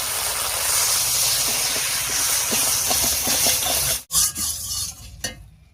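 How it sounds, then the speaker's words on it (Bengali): Spice paste and water sizzle loudly in a pan while being stirred, a continuous frying hiss that breaks off abruptly and then resumes more faintly. "এবারে মশলা বাটা জল দিয়ে একটু কষিয়ে নেব।"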